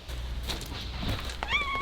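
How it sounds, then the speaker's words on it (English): Hungry pet cats meowing at feeding time, a short rising meow near the end after a stretch of low background rumble and faint household noise. "Little meows are so cute."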